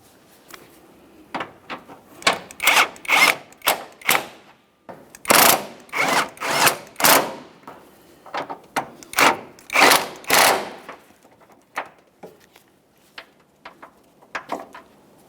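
Bolts on a 2012-2015 Honda Civic 1.8L transmission mount being tightened with a power tool, heard as a series of short, loud, close bursts in irregular rhythm with brief pauses between them, and no talking.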